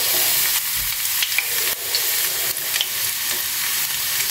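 Garlic frying in a generous pool of olive oil, a bright steady sizzle with faint stirring clicks, close-up and fairly loud, no voices.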